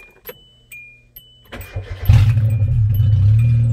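An old car nicknamed little Susie, a standard model with an aging exhaust, cranks after a few clicks and catches, the engine firing into a loud, rough, rumbling idle close by.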